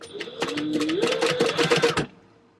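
A sewing machine stitches clear vinyl at a 3 stitch length with a quarter-inch seam allowance, a short close rapid run of needle clatter lasting about two seconds before stopping.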